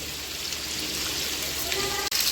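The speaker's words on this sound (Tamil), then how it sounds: "கடுகு போட்டுக்கிறோம்" Mustard seeds spluttering in hot oil while cooking a large kalingan fish dish, heard as a steady dense crackle and sizzle with tiny scattered pops, close and even throughout, no voice.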